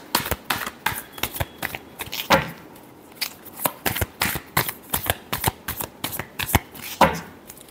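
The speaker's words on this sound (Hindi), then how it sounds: "Last shuffle." Tarot cards being shuffled close up, a run of crisp riffling bursts and snaps at an uneven rhythm, with no talking over them.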